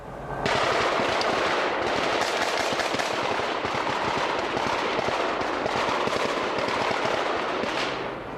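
Sustained heavy gunfire during a police shootout at a mountain cabin in Southern California, dense rapid bursts of shots pounding continuously for several seconds, loud and unbroken.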